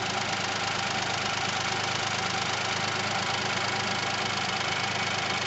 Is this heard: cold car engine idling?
yes